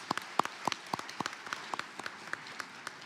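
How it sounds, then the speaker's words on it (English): Sparse applause from a few people at a national election debate, a dozen or so distinct sharp claps in loose rhythm over three seconds, fairly faint with room ambience. "Give them a round of applause, please, those ones."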